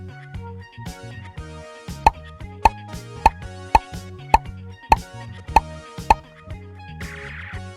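Bubbles tapped and popping in a preschool number-tracing video game, a regular series of sharp plops over a light cheerful musical backing, ending in a brief sparkly flourish.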